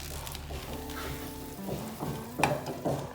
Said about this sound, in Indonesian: Lalu kita menggoreng ayamnya.